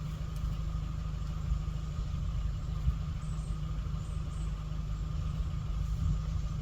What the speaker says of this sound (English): Let that engine warm up, then I'll turn it off.